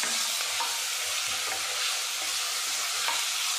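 Ginger garlic paste and onions stir-fried in a pan for Dindigul-style chicken biryani, giving a steady, loud sizzle with faint scraping stirs underneath, continuous throughout.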